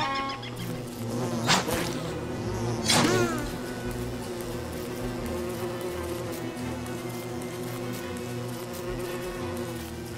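Steady, dense insect-like buzzing of bees in the video game Don't Starve, continuous throughout with a couple of brief louder swells near the start, set over a low droning game soundscape.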